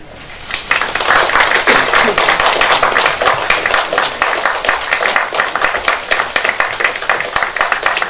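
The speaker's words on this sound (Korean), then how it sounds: "여러분의 힘찬 격려의 박수를 부탁드리겠습니다." Loud, sustained applause from a room of party lawmakers greets five floor leader candidates at a Bareunmirae Party caucus, with dense, steady clapping from just after the start to the end.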